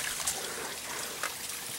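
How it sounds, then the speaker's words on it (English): Water trickles from a small mountain waterfall on Mt. Eisenhower, a steady close, soft splashing stream with a couple of brief brighter spatters and no voices. "I think I'm just going to climb this waterfall."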